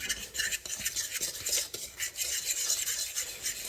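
A utensil scrapes and taps briskly in a bowl while mixing sugar, salt, baking powder and baking soda for southern-style cornsticks, close and quiet, in quick uneven strokes with no talk.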